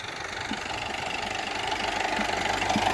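A tractor engine runs steadily with a low mechanical knock, holding at a constant, fairly loud level throughout, with no voices.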